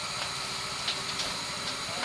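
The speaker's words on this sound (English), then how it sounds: "Gear train is pretty noisy." A Rumely Canadian Special double-cylinder steam engine runs with its gears dry, giving a steady hiss and low mechanical churning with faint periodic clanks from the noisy gear train.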